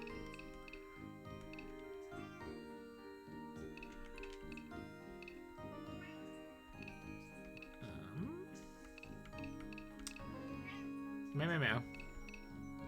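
A cartoonish cat meow from a video game sounds briefly over steady ticking game music, with people chatting throughout.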